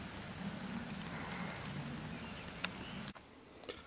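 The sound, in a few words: rain falling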